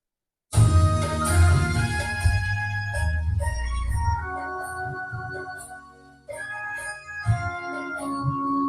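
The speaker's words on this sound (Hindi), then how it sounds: "छठ का ही गाना बजाते हैं।" A festive Chhath devotional song with tonal melody and steady percussion plays loudly and continuously through a home theater connected to a Daiwa 43-inch smart TV, with a brief drop before the music swells again.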